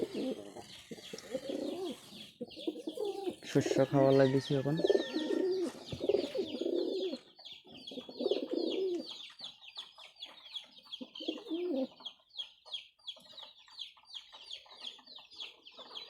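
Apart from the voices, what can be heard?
pigeons cooing while eating grain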